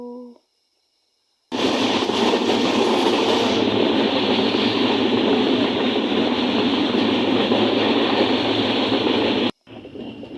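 A train in Assam near Tinsukia rumbles past close by, a loud steady roar with rail clatter lasting about eight seconds, starting and stopping abruptly, with brief quieter sounds before and after.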